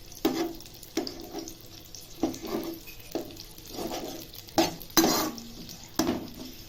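Onion, garlic and capsicum stir-frying in a pan for garlic chicken, with a spatula scraping and clattering against the metal in irregular strokes over a steady low sizzle, close and moderately loud, no talking.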